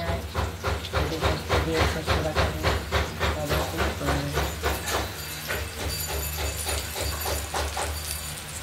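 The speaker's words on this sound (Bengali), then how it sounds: "পটলগুলোর এক পিঠ ভাজা হয়ে গেছে, আরেক পিঠ ভাজা হচ্ছে।" Stuffed pointed gourds (potol dolma filled with prawn and poppy seed) frying in oil in a pan, a loud, steady sizzle and hiss that pulses in quick waves and then settles.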